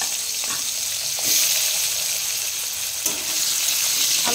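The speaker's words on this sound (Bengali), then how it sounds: "আলুটাকে একটু ভেজে নেব" Potato pieces sizzle and fry steadily in hot oil in a pan with kalo jira and green chilli tempering, a close, continuous crackle with brief louder stirring bursts and no talk.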